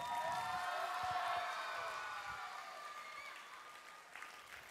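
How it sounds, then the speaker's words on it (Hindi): Studio audience applause on a Ramadan iftar television show, brisk clapping that starts at full strength under a fading tone and slowly tapers off, with a faint whoop near the end. "और एक बार फिर हम खड़े होकर ईदी साहब के लिए जोर से दोनों हाथ उठा के तालियां बजाएंगे।"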